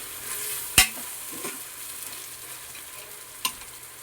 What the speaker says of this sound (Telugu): ఇప్పుడు ఇందులోకి నేను ఒక టమాటో అయితే యాడ్ చేసుకుంటున్నాను. బాగా మిక్స్ చేసుకోవాలి.